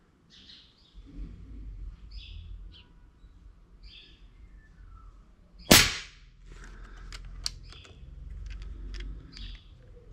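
A Leviathan 5.5mm air rifle fires a single slug with one sharp, loud crack midway, while birds chirp faintly nearby before and after the shot.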